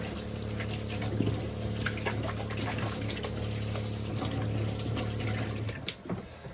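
Cold water gushes steadily at high pressure from a tap on a boat's newly repaired water system, a continuous close rush that cuts off abruptly near the end.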